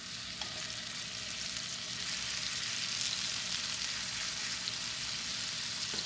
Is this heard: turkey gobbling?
no